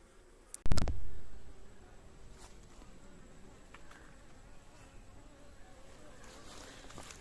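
Honey bees hum in a dense, steady drone at an open beehive, with a sharp knock near the start and a continuous buzzing bed that carries on faintly to the end.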